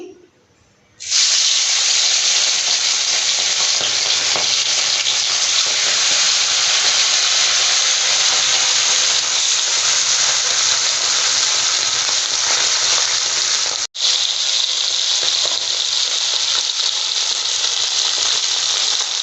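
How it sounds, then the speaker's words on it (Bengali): Fish frying in hot oil in a wok gives a loud, steady sizzle that bursts in after a quiet second and holds with only a brief dip near the end. "তেলটা গরম হলেই মাছটা দেবো। এবার আমি মাছটা দিয়ে দিচ্ছি।"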